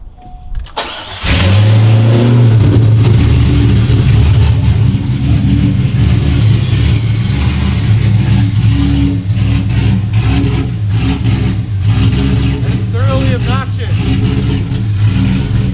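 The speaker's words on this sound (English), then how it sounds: "I think it's gonna sound like every LS in the world" LS V8 engine in a truck build running on open headers with an X pipe and no mufflers, starting with a burst then settling into a loud, raw, rumbling idle with a few blips close by, with faint voices beneath.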